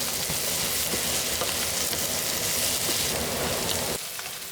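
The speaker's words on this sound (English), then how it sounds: "Adding a touch of sugar and some oyster sauce, give a quick mix and stir before dishing out" Cucumber and egg stir-fry being stirred in a wok with sugar and oyster sauce, a dense, loud, rain-like sizzle and scraping throughout that drops off sharply near the end.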